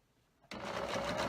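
A sewing machine starts abruptly after a moment of quiet and runs in a steady, close whir, stitching rows of a quilt block for the star pattern.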